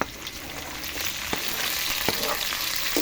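Sliced pepper and tomato sizzle in a hot pan with other vegetables: a continuous hiss broken by scattered sharp pops and crackles, close up and moderately quiet.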